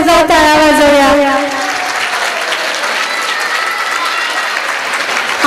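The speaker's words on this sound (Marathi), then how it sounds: "सगळ्या मुलांसाठी जोरदार टाळ्या वाजवूया" An audience applauds children at a kindergarten annual gathering. Many people clap together in dense, sustained applause, and a voice and some tonal sound are briefly heard at the start.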